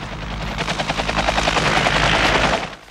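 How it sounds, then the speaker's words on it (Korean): A helicopter's rotor thumps steadily and loudly over a rumbling engine in a surrounded military base setting, the chopping swelling then dropping off toward the end as it pulls away. "그렇게 헬기는 떠나버리는데"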